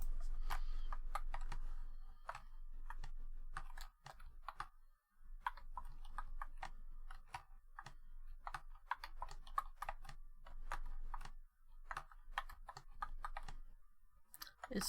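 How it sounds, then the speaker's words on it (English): Typing on a computer keyboard, close and quiet, with irregular runs of crisp key clicks broken by short pauses, heard alone with no voices. "It's so much quicker typing"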